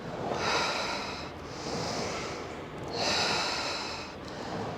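Breathing during a Pilates reformer exercise: two long, steady breaths, an exhale and an inhale, each lasting over a second, fairly close and audible with no talking.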